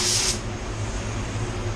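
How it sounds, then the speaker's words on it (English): Paint spray gun at 34 PSI laying a coat onto a Tesla hood during a blend refinish, a close, loud, steady hiss that swells briefly at the start and then holds evenly over a low workshop rumble. "Spraying at 34 PSI."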